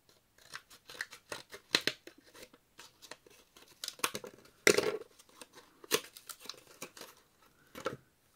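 A pack of washi tape is cut and torn open by hand, giving a quiet run of short snips, crinkles and plastic tearing sounds in irregular bursts, with one sharper rip midway and no talking.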